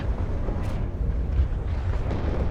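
A HE bomber strike in WARNO lands as a dense, rumbling explosion with continuous low roar and debris noise filling the short stretch, loud and close.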